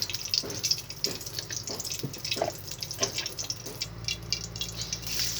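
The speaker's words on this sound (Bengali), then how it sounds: "এবার এটাকে আমি নামিয়ে পানি থেকে একদম সুন্দর ভালো পানি দিয়ে পরিষ্কার করে নেব।" Boiled beef liver being rinsed under a running tap, a steady close hiss of flowing water with splashes and drips against the sink, continuous throughout with no talking.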